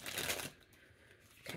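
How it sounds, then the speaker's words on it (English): A deck of cards is shuffled in quick riffling bursts, a brisk flurry, a short pause, then another burst, all soft and close with no talking. "let me shuffle again."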